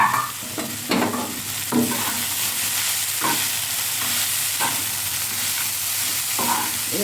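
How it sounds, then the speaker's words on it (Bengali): Chowmein with scrambled egg and fried peanuts being stir-fried in a hot pan: repeated scraping strokes of a spatula every second or so over a steady, loud sizzle, with no talking. "এবার ভালো করে চাউমিনটাকে নেড়ে নেবে"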